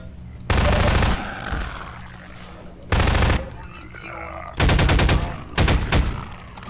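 Loud bursts of rapid automatic gunfire erupt in three or four separate volleys, close and punchy, with quieter game sounds between them, in the video game Half-Life 2: Episode Two.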